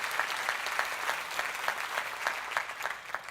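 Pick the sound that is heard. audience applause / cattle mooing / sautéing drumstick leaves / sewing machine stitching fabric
audience applause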